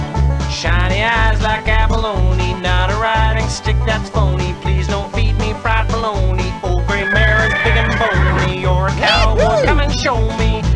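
A cartoon horse neighs in JumpStart Advanced Preschool over a bouncy song with a steady thumping beat and sung vocals, the whinnies rising and falling loudly near the end.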